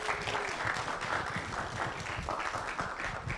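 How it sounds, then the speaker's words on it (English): An audience at a book launch in Kenya applauds to welcome a speaker to the stage, a continuous, fairly soft spread of many clapping hands with faint crowd murmur. "please give a warm round of applause to Ms. Ivy Mwai from the Mastercard Foundation"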